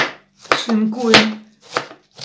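A kitchen knife shreds firm raw cabbage on a board for fermenting, giving a few close, crisp crunching cuts in an uneven rhythm with brief pauses, alongside a faint low hum.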